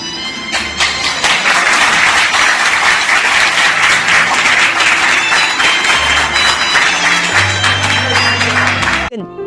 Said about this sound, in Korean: 관객들의 큰 박수를 받았습니다